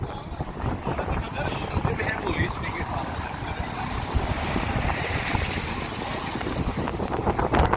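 Wind buffets an outdoor microphone in strong, uneven gusts and rumbles throughout, with a voice talking beneath the roar.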